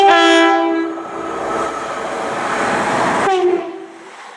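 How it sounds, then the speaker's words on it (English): Cross-country passenger train from Plymouth to Glasgow Central running through Severn Tunnel Junction station, a loud two-tone horn blast opening over rising rail rumble and rushing wagons, then a second horn note near the end. "coming through now is a cross-country service to Glasgow Central from Plymouth"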